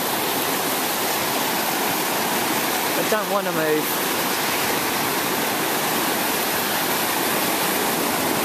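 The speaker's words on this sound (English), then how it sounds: "Oh, water coming in. Water coming in." Warm sea water washes in around a person sitting in the shallows, a steady close broadband rush of lapping and churning that runs throughout, with someone speaking briefly near the middle.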